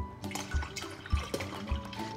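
Water is poured into a plastic watering pitcher to top up a liquid plant-treatment mix, a quiet splashing trickle with a few soft gurgling pulses, close and alone.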